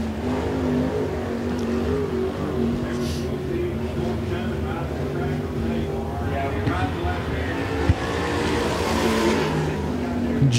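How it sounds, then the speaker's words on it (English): Sportsman division race car engine roaring through a qualifying lap at Smoky Mountain Speedway, a steady loud drone with rising revs, heard under a track announcer talking. "Terry Poor in the yellow number two car."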